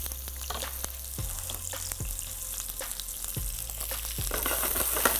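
Chopped onion sautéing in hot cooking oil for an eggplant curry, giving a steady, close sizzle broken by a few scraping stirs, with no voices.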